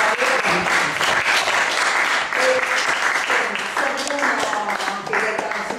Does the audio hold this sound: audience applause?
yes